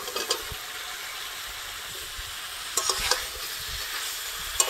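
Cauliflower and potato being stirred into a fried spice paste in a pan, giving a steady close sizzle with a few scraping stirs of the spoon, no talking.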